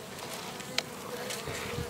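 Honeybees buzz softly at a forest hive, a faint steady insect hum close by with a brief knock partway through.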